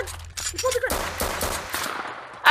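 Gunfire during a raid in a video game, rapid clustered shots crackling in short bursts, fairly close and loud over a busy game background.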